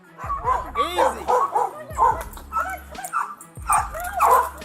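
A guard dog barks and yips in repeated bursts close by, with whimpering between, while people speak over it and try to calm the animal.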